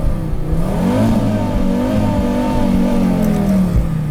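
A tuned Audi S4 engine revs hard and holds high rpm for a launch at about 6500, its loud, steady, mid-pitched drone rising and wavering close by with no talk.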